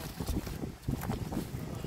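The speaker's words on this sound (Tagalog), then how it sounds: "Super hangin po dito." Gusting wind buffets the microphone with a steady low roar and rumbling bursts, no clear voices over it.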